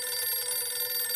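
A phone ringing with a steady, bright electronic trill, faint and alone, lasting only a moment.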